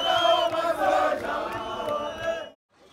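Ecstatic crowd in Zimbabwe celebrating Mugabe's resignation, a dense wash of chanting, singing voices that swells and holds, then cuts off abruptly near the end.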